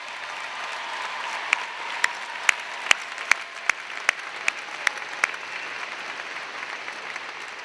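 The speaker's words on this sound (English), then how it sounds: "Graduates, please join me in a round of applause for your family and friends." Audience clapping at a 2019 Ball State University spring commencement ceremony, a steady wash of applause from a large crowd in a hall, with a few sharper, louder claps standing out near the middle of the stretch.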